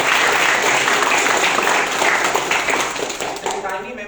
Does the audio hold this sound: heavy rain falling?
no